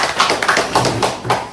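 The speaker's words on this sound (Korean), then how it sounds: "박수로 좀 환영해" A small group applauds to welcome a guest at a political gathering. The claps are close and fairly loud, arriving as a handful of distinct, uneven bursts over a second and a half.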